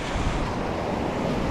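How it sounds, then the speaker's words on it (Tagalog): Large ocean waves break near a shore fishing spot, a continuous loud, broad roar of surf with a rumbling low end and windy hiss, steady throughout with no voices. "Masyadong malalaki yung alon guys"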